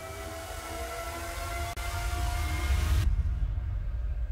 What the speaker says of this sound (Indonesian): Kereta api terus melaju, kencang menuju Depok.